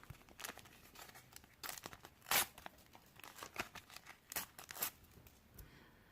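Fantastic Beasts booster packs from the Harry Potter world being torn open by hand, with short crinkling rips and foil tears in bursts, close and fairly quiet.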